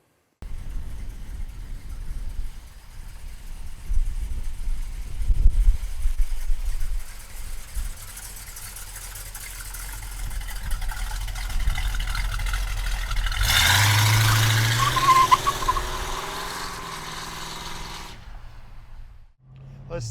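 A numbers-matching 1968 Dodge Charger R/T with a 440 V8, rotisserie restored, its engine a deep rumble from inside the car that builds through acceleration, with a brighter whine and whoosh near the end.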